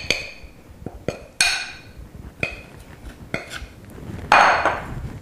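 A spoon scrapes and knocks against a bowl while scooping sticky biscuit dough out, giving a string of separate clinks and taps with a longer scrape near the end, close and clear with no talking.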